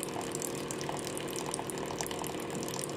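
Water is poured into a pot of Samyang instant noodles for cooking, a steady continuous splashing gush close by that runs without a break.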